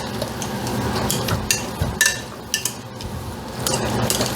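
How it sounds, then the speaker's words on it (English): Potatoes for shepherd's pie are mashed and stirred in a pot, with irregular metallic clinks and scrapes of a utensil against the pan over soft mushy thuds. "Stir it and mash it all together."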